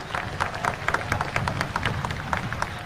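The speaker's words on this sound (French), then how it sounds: "Demos un caluroso aplauso." An audience claps in a sustained burst of applause, dense and steady throughout, with a faint voice underneath.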